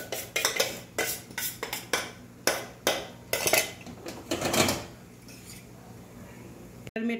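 Khaman batter poured and scraped from a bowl into a preheated steel plate, with a series of sharp metallic clinks and taps in an irregular rhythm, close and fairly quiet, ending with a single knock.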